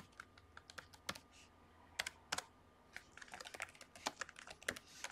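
Rapid typing on a computer keyboard while entering form details in a Java program, with irregular bursts of sharp key clicks and a few louder keystrokes. It is close and clear with no talking.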